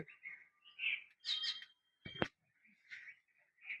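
Small birds arriving to be fed give repeated short chirps and tweets in scattered bursts, fairly close and clear against a quiet background, with one sharp click midway.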